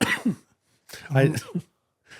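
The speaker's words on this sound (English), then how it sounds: "I'm coughing because I cough when I laugh" A person gives a couple of rough, breathy coughs close up, separated by a short pause, with a faint trailing sound at the end.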